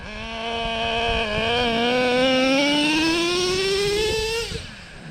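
Traxxas Revo 3.3 nitro RC truck engine with its low-end carburetor needle turned slightly in, revving up steadily into a rising high-pitched whine as the truck takes off, then cutting back near the end; loud and close, no talk.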